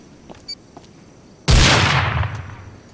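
A C4 charge detonates during a Rust raid, a sudden loud broadband blast that rolls into a long decaying rumble, preceded by a few faint clicks.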